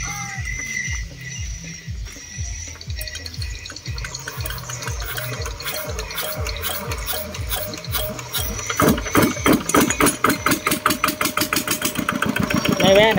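A small diesel engine chugs steadily with a rhythmic knock, then speeds up and runs harder near the end, with people talking over it.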